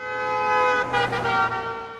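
A loud car horn blares continuously with a steady, harmonic tone, swelling slightly in the middle, close by.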